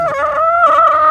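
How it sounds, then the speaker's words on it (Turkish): Chickens and a rooster at a Turkish village house: a single short, loud, close-up fowl call with a clear tonal, crowing quality, heard alone. "İki tavuk bir horoz."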